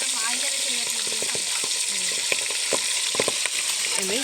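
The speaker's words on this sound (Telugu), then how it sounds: "ఇలానే ఇంకా మిగతా ముక్కలన్నిటి కూడా ఫ్రై చేయాలి" Mutton pieces frying in oil for a mutton pickle, a continuous bright sizzle with occasional utensil clinks and stirring, close up, with brief faint voice sounds in the background.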